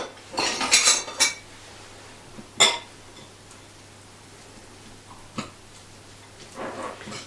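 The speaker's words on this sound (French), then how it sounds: "je vais mélanger le tout avec notre sauce" A utensil clinks and scrapes against a bowl while beetroot and carrot hearts are mixed with sauce, in a few sharp bursts of clatter separated by quiet pauses, close and fairly loud, with no talking.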